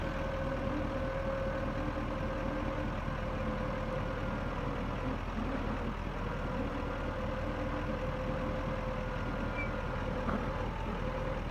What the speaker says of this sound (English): That thing's been sitting running all this time, and just now I had the fan kick on.